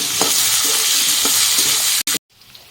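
Cut potatoes and two garlic cloves fry in a pan with a cumin tempering, a loud close sizzle broken by rhythmic scraping stirs, then a sudden cut and quieter tail.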